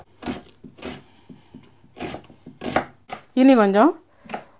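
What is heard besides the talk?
chopping white onion finely with knife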